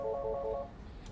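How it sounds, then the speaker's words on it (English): A mobile phone rings with an incoming call, sounding a short run of about four quick, bright electronic tone pulses that then stop, leaving a faint room hush. "we get a phone call"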